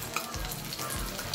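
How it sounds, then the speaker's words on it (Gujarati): Corn bhajiya fritters deep frying one by one in hot oil over a low gas flame; a dense, bubbling sizzle crackles steadily and close, with brief splutters, no voices. "આપણે એક એક કરીને આ રીતે ભજાને ડીપ ફ્રાય કરીશું"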